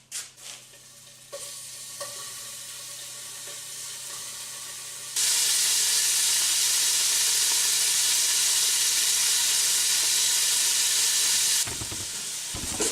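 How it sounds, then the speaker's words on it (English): Beef chunks hitting hot oil in a pan for stew start with a quiet fizz, then break into a loud, dense, steady sizzle that holds for several seconds before easing slightly at the end. "This is going to go into the pan that has hot oil in it so I can brown it."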